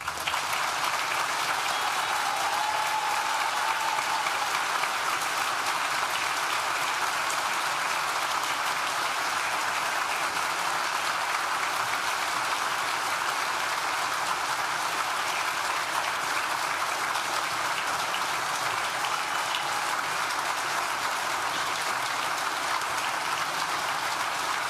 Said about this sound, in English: we invite you all to join us in a round of applause to